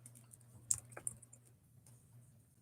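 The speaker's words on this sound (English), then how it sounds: "I'll type it" Quick typing on a computer keyboard, a few light clicks and taps over about a second, close and faint against a steady low hum, with no talking.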